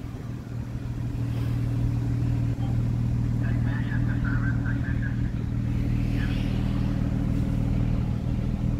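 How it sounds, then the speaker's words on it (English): A 2015 Jeep Wrangler with off-road tires idles steadily up close, a constant low engine drone running the whole time without pause, with faint voices in the background. "engine's running beautifully"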